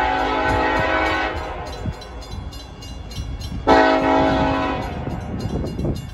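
A loaded BNSF coal train led by Union Pacific engines rolls past close by, its horn sounding in two sustained blasts over a steady rumble and rattle of cars.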